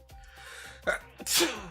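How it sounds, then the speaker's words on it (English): A sharp, loud sneeze bursts out near the end, preceded by a few quick intakes of breath against a faint background hum. "If I have to sneeze, I sneeze."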